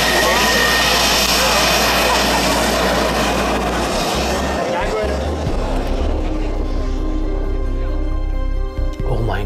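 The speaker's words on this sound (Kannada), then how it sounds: "ಎದೆನೋ ಬಂದುಬಿಡ್ತು F-35 ಸೌಂಡ್ ಕೇಳಿ ಆ್ಯಕ್ಚುಲಿ" An F-35 stealth fighter jet roars overhead during a flying display at the Aero India air show, a loud, sustained engine rumble that swells and then slowly thins out as it passes.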